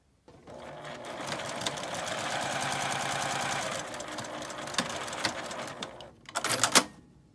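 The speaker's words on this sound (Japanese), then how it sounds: "8センチ開けて ファーを縫います。" Sewing machine stitching eco fur fabric for a tote bag, a close, steady mechanical whirring chatter for several seconds, slowing briefly, then a short final burst of rapid stitching.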